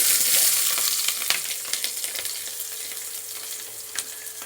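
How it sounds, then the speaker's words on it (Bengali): Chopped onion sizzles in hot oil with bay leaf and a dried red chili, a steady bright crackle with occasional louder spits and soft stirring knocks, close and continuous with no talk. "পেঁয়াজ কুচি দিয়ে দিলাম এবার পেঁয়াজটাকে লাল লাল করে ভেজে নেব"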